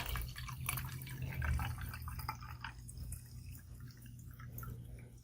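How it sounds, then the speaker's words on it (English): Water runs steadily into a cup while making a snow globe, a continuous close pouring and trickling sound with a faint low hum behind it, and no talking. "then we're going to take some water and fill our cup up"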